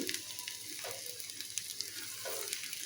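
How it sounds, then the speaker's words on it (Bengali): Onion and garlic fry in oil for a nigella-seed mash, a faint, close sizzle with a couple of soft stirring scrapes. "সর্বশেষ কালি জিরার জন্য আমি পেঁয়াজ রসুন তেলে ভেজে নেব।"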